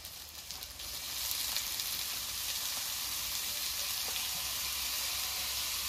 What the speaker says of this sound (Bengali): এবার সেদ্ধ করে রাখা কলার মোচাগুলো দিয়ে দেবো।